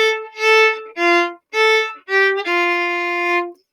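Bowed violin plays two measures of a blues melody, five short detached notes and then one long held note, near and clear with nothing else heard.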